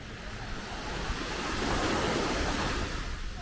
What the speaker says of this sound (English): You're getting my first impression of this beach. Check this out.